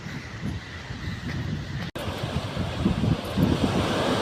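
Sea waves wash on a shore, a continuous rushing surf with wind buffeting the microphone and a brief dropout midway.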